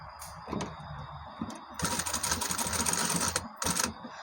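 A sewing machine stitches a buttonhole placket on fabric in short bursts, with a brief run near the start and a longer steady run in the middle, followed by one more short burst.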